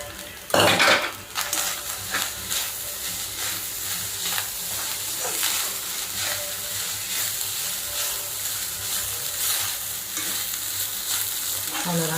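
Cooked rice tossed with grated coconut in a hot pan for coconut rice, a spoon scraping and stirring with light frying crackle and metallic pan clatter, a loud clank near the start, steady close scraping throughout.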